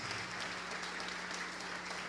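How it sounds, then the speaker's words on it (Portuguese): A church congregation applauding during a service, a soft, steady wash of many hands clapping that sounds distant and even throughout. "Vamos aplaudir mais ao Senhor Jesus"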